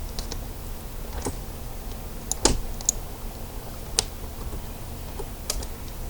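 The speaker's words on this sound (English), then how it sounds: "So you type in the width that you want and press enter." Someone types on a computer keyboard and presses enter, producing a few sparse, close key clicks spread out over a quiet background.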